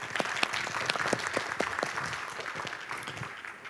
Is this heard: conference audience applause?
yes